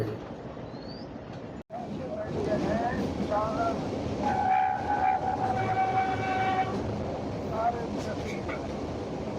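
A metre-gauge train bound for Junagadh rolls past a crossing in the Gir sanctuary with a loud, sustained horn blast, wheels rumbling nearby, while people talk in the background.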